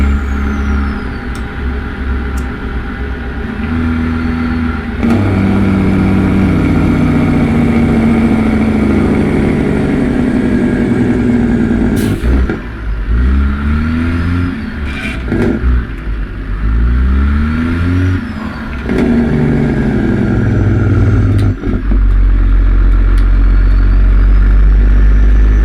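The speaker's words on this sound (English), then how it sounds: "These gear shifting sounds" A Kenworth W900 truck engine with the BlueLine mod in a driving game revs and pulls through gear shifts, deep rumble rising and falling with repeated shift breaks over about twenty-five seconds.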